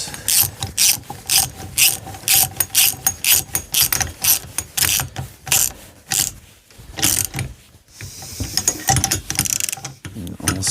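A worn, broken ratchet wrench tightening a bolt on a snowbike conversion kit, loud rapid bursts of clicking strokes in quick rhythm, close up, with a brief pause midway before resuming.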